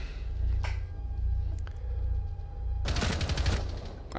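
Rapid bursts of gunfire in Rainbow Six Siege, with a few sharp isolated shots early on followed by a loud, dense automatic burst near the end, all over a low constant rumble.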